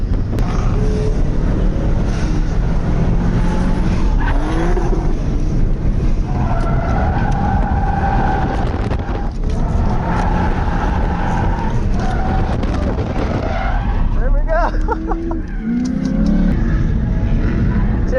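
An automatic 2015 Ford Mustang EcoBoost runs at full throttle while drifting at a track event, its loud, sustained engine drone and tire noise heard from inside the car, with voices talking over it.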